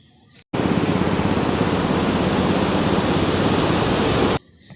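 The flooded, muddy Bharathapuzha river rushes beneath a bridge at night, a loud, steady roar of water that cuts in abruptly, holds for about four seconds, then stops.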